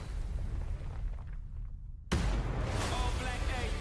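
A rocket explodes in a video game: a sudden loud, close boom cuts in after a brief lull and becomes a sustained roaring blast with debris noise over game ambience.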